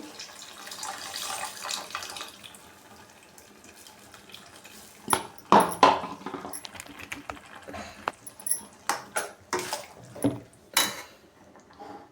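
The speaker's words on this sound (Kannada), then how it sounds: "ಹುಣಸೆ ರಸ ಹಾಕೋತಾ ಇದ್ದೀನಿ ನೋಡಿ" Tamarind juice pours into a pot while cooking tomato-cumin sambar, giving a trickling, splashy liquid sound with clinks of a vessel and utensil, scattered bursts mostly in the second half, close and fairly quiet.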